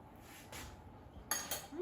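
A knife and fork clink against a plate while cutting tender Instant Pot sausage, a few brief, light metallic taps close by with quiet pauses.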